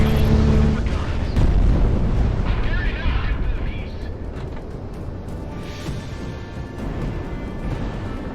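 A missile launch in the video game Project Wingman, a loud roaring rush and heavy rumble that fades slowly over several seconds, with voices speaking over it.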